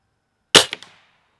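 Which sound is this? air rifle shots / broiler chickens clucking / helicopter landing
air rifle shots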